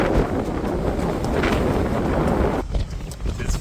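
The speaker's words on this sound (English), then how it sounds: "It's fairly blustery now." Strong gusts of wind buffet the microphone in a continuous rough rumble, easing slightly near the end.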